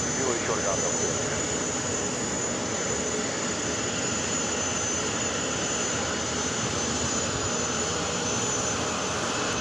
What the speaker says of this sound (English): That is Lufthansa Flight 401 taking off to Frankfurt on the 747-400 Intercontinental.